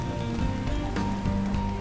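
Rain falls steadily outdoors before the Boston Marathon on a cold, windy race day, making a dense, continuous hiss with soft patters, heard alone at close range.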